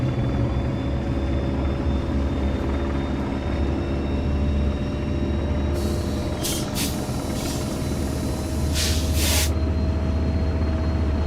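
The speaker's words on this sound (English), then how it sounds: "Oh, there's a helicopter." A helicopter flies over the Antelope Valley Line in Train Sim World 4: a loud, steady rotor drone over a low train rumble, with a few brief bright bursts partway through.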